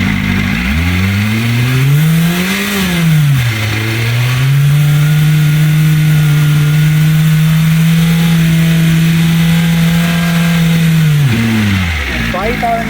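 A BMW M1000RR motorcycle with its catalytic converter removed revs up and holds steady around 5000 RPM, a loud, close, sustained exhaust drone that climbs, dips, then settles before dropping back to idle.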